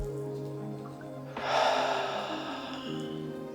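During a yoga class, one audible breath comes in through the nose, then a longer, breathy exhale follows. It is close and soft, with no talking.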